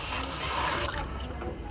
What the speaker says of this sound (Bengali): মশলা ভাজা হয়ে গেছে, এবার জলটা দিয়ে দেবো।